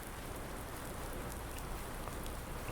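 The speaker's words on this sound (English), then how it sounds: "Rain's gonna come back." Rain falling in the Farming Simulator 19 video game, a dense, steady hiss of drops on surfaces with no other sounds.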